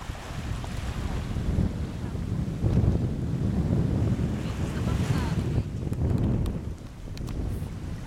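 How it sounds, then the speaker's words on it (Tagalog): Ocean waves wash onto a beach in broad, rolling surges, heavily mixed with blustery wind buffeting the microphone; the roar swells and eases over several seconds. "Ah, ayan ang beach."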